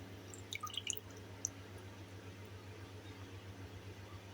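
Coated chicken pieces for zinger shawarma lifted out of water, a handful of quick light drips and splashes early on, then a faint low hum of the kitchen with no talking.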